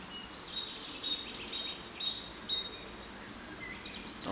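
Several wild birds, a great tit, a wren and a robin, sing outdoors in the countryside, with thin high chirps and short repeated phrases drifting at a distance over a soft steady background hiss.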